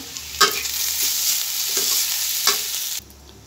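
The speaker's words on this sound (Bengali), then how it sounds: "আলু দিয়ে দিলাম হলুদের গুঁড়ি আর লবণ, দিয়ে সুন্দর করে নাড়াচাড়া করে নিব।" Potatoes tossed with turmeric powder and salt fry in hot oil, a steady close sizzle broken by a couple of sharp spatula scrapes against the pan, ending abruptly.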